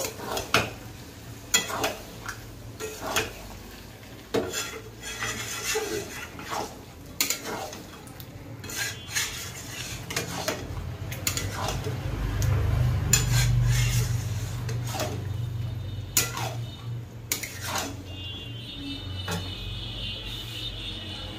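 Boiled chana dal is stir-fried in a pan, mostly repeated clanks and scrapes of a metal spoon against the cookware with a faint sizzle rising in the middle, close and uneven, without speech.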